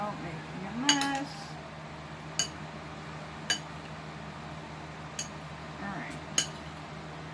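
A spoon stirs pork and poblano taco filling with cilantro in a pan, giving a handful of sparse metallic clinks and scrapes spread apart over a low steady hum. A voice speaks briefly near the start.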